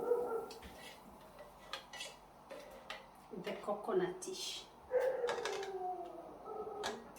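Dogs bark and howl at a distance behind a person talking while cooking fish coconut stew, with dishes and utensils clinking now and then.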